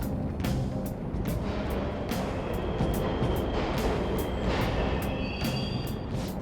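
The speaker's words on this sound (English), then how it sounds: "The trains are totally running!" A subway train in Persona 5 Royal rumbles steadily, a dense continuous roar of wheels and motion that stays loud throughout, with faint metallic squeals above it and no talk.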